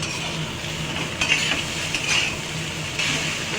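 Egg and vegetables being stir-fried together for egg chow mein, a steady close sizzle with a few louder scrapes of a spatula against the pan, no talking.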